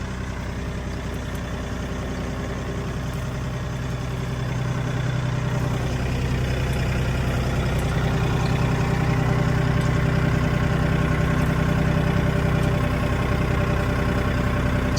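A Mahindra 1635 tractor fitted with a loader third-function kit runs steadily in a green field, its diesel engine a constant close rumbling drone that swells a little louder partway through, with no voices.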